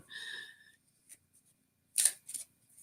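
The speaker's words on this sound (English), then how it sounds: "I have to keep shuffling" A deck of cards being shuffled, soft riffling and snapping bursts at close range separated by quiet gaps, faint overall.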